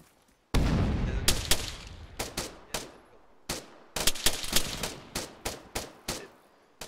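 Gunfire aimed at a technical vehicle in the video game ArmA: a dozen or more loud, sharp shots in uneven bursts, some closely doubled, each ringing off with a short echo.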